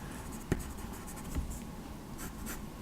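A blue erasable Kohl Erase pencil sketches on comic art paper, with soft scratchy strokes and a couple of light taps, quiet and close with no talking.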